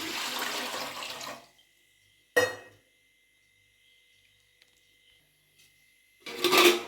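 Water poured into a steaming pot while making jackfruit kadubu: a rushing pour of about a second and a half, then a brief splash, near and fairly loud with quiet between, and another short gush at the end.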